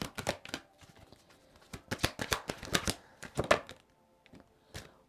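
A tarot deck is shuffled and cards are drawn, producing close, crisp riffling flutters and sharp snapping card slaps in irregular quick bursts with short pauses between them.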